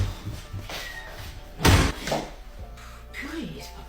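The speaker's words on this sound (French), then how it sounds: "C'est la dernière fois que tu claques la porte de cette manière" A door slams shut once with a loud, sharp bang in a home during a mother-daughter argument, followed by a short rattle, with voices speaking around it.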